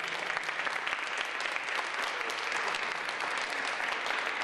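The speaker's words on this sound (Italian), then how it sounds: "Facciamo un applauso per..." Audience applause at an ARISS amateur-radio contact event with the International Space Station, steady and fairly faint as if heard from a distance, with no voices over it.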